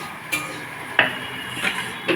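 Okra and potatoes frying in a pan, a low continuous sizzle broken by a few sharp clinks and scrapes of a utensil against the pan, close by and without talk.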